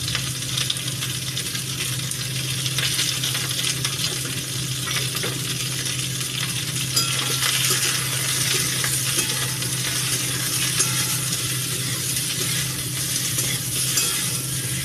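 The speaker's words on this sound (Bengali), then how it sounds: "ভালো করে ভাজা ভাজা করে নেবো পটলটা" Pointed gourd (potol) frying in a pan with a little salt, a steady loud hiss and crackle of oil running throughout, with occasional light scraping and stirring clinks.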